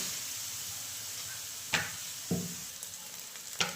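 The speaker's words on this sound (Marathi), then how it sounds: "आणि आता हे चांगले एक मिनिटभर परतून घेते चांगलं" Soybean vegetable sautéing in a pan makes a soft, steady sizzle, broken by a few distinct stirring clinks and scrapes from a spoon, quiet and close with no talking.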